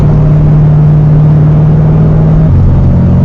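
A Corvette C7 Stingray with a catless exhaust accelerates onto a highway, its loud, close engine drone holding a steady pitch before dropping lower near the end.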